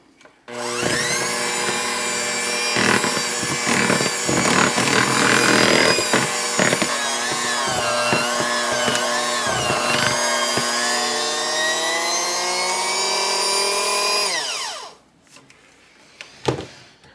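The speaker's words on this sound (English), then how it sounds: "And I'm just going to start mixing that on low." An electric mixer beats cupcake icing on low speed with a continuous whirring motor hum that wavers as the beaters move through the bowl, close and loud, then cuts off, followed by a couple of faint knocks.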